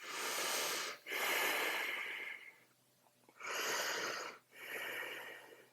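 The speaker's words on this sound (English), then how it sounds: "you're breathing down into the belly" Deep, slow breaths held in a yoga pyramid pose: two long airy exhales with a quieter pause between, close and fairly loud, no speech.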